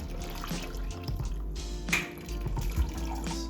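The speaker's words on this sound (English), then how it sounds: "Let's strain our dashi broth." Dashi broth being strained for shoyu ramen, liquid pouring and dripping through a strainer with steady trickling and a few small splashes, close and moderately loud, no talking.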